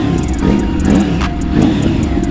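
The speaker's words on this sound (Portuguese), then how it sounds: "Mano, olha como ficou essa moto. Olha o barulho dela." A brand-new motorcycle with a modified straight-pipe exhaust idles and revs on a street, its engine note close and loud with a steady rumble and a couple of brief rises in throttle.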